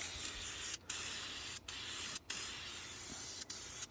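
Wheel paint sprayed from an aerosol can onto a truck's rear differential in a thick coat, heard as long continuous hissing bursts with a few brief pauses between passes.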